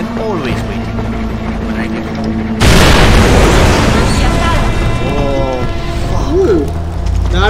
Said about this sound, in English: That was a pretty good explosion, guys.